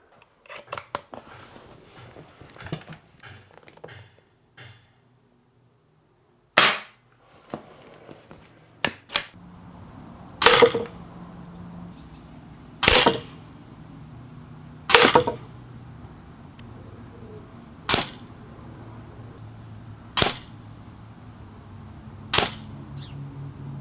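Sharp, sudden impacts of air rifle pellets striking a plywood backstop at spaced intervals, about a dozen cracks with quiet gaps between, close and punchy.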